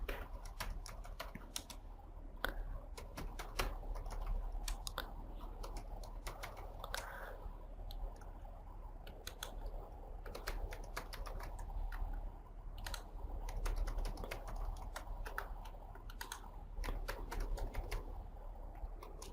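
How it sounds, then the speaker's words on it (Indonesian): Numbers being typed on a computer keyboard into an Excel spreadsheet: a steady run of quick, close plastic key clicks over a low background hum, continuing without pause. "Oke, kita ketik bawah."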